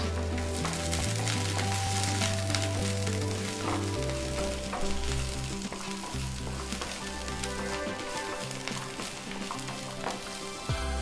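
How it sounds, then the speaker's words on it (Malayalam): Small onions sizzle steadily as they sauté in a pan for a pappad chutney, a continuous close frying crackle that stays fairly even throughout. "ഇതിലേക്ക് ഞാനിപ്പോൾ ഉള്ളി ചേർത്ത് കൊടുക്കുകയാണ്"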